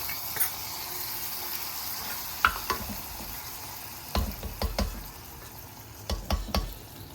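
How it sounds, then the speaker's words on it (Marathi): A hot tadka of tempering is poured over cooked mixed wild vegetables, giving a steady sizzle with sharp clinks and scrapes of a spoon stirring in the pan, close and fairly loud. "आपण गॅस बंद करूया आणि हा गरम गरम तडका याच्यावर"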